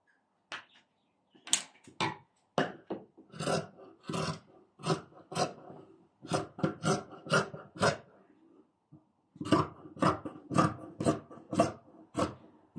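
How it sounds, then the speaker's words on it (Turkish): Scissors snip through polar fleece fabric while cutting the front panel of a vest, a close, steady series of short rasping cuts with a brief pause midway. "Ön bedenimizi kesiyoruz."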